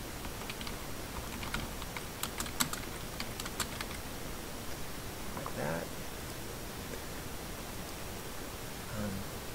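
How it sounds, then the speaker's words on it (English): Keys clatter on a computer keyboard in short irregular bursts as a name is typed in a SketchUp session, soft and close over a steady background hiss. "Type your first and last name."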